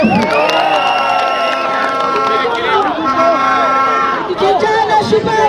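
A large crowd at a Kenyan political rally cheers and applauds for a member of the county assembly, a loud, sustained roar of voices and clapping with musical tones mixed in.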